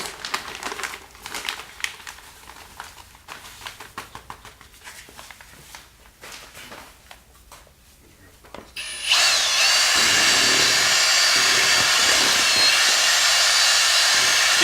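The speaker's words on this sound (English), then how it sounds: "these do make nice grout drills. You know, instead of using that big old drill." A power drill with a mixing paddle churns tile grout in a bucket during a tile installation demo, first as gritty, uneven scraping and then as a loud, steady whirring drone that runs continuously to the end.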